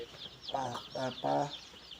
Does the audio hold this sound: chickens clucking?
yes